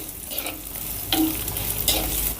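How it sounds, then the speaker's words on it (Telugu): Sliced onions fry in a pan toward light golden, a close, steady sizzle with a few soft stirring scrapes and no talking. "ఇప్పుడు ఈ ఉల్లిపాయల్ని పూర్తిగా బ్రౌన్ కలర్ కాకుండా లైట్ గోల్డెన్ కలర్ వచ్చేంత వరకు ఫ్రై చేసుకుందాం"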